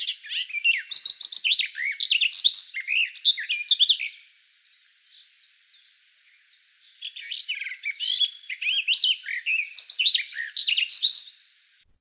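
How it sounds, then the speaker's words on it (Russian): A garden warbler sings a rapid, rich warbling phrase of varied chirps and trills for about four seconds, falls quiet, then resumes with a second long stretch, clear and close against a silent background. "Садовая славка."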